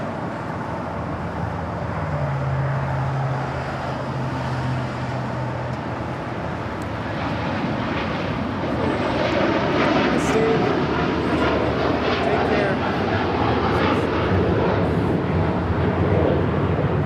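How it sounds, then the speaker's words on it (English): Turkish Airlines Boeing 787-9 Dreamliner taking off from runway 25 right at Los Angeles International Airport, a sustained jet roar that swells and grows louder in the second half, with faint background chatter. "Turkish Airlines Flight 180 departing to Istanbul on a 787-9 Dreamliner."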